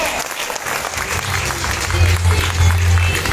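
A seminar audience bursts into applause, a steady wash of many hands clapping that carries on throughout, with a low hum and some voices underneath.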